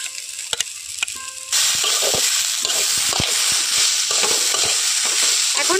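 Chopped carrot, capsicum and tomato drop into a hot pan and break into a loud, steady fry, with a few clatters of stirring before the sizzle swells and continues close up.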